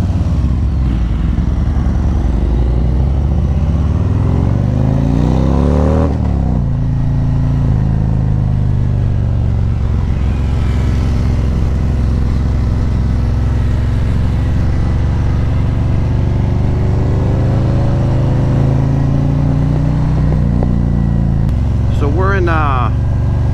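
A 2022 Ducati Streetfighter V4S rides along a beach road in Monmouth Beach, with a steady engine drone and shifting revs as it cruises, under continuous talk and wind noise from the rider.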